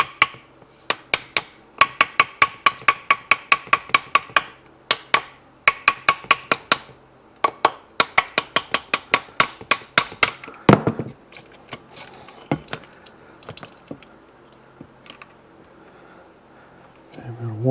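Metal tapping on the gears and kickstarter of a disassembled Suzuki RM250 two-stroke engine, rapid bright clinking strikes in quick bursts, close and loud, thinning to sparse taps and knocks toward the end.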